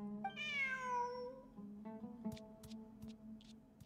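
A cat in the Genshin Impact video game gives one drawn-out, rising-then-falling meow, followed by softer ambient game sounds and a few faint clicks.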